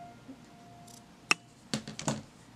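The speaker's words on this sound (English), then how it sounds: "I am going to cut the blue yarn" Scissors cut blue crochet yarn with a few quiet, sharp snips close by, one single snap followed by two quicker cuts against a hushed room.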